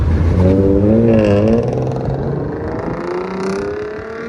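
A 2007 Toyota 4Runner's 4.7-liter V8 revs loudly nearby through an aftermarket exhaust, its deep throaty note rising and falling over a few seconds before settling into a steady rumble.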